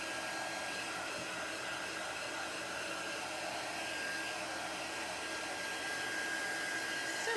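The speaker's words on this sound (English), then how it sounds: "if you're using a heat tool like this one, you want to keep it moving because it can actually boil your chalk" A handheld heat tool blows hot air to dry chalk paste on a craft transfer, making a steady, loud, unbroken whooshing whir from start to finish with no voices.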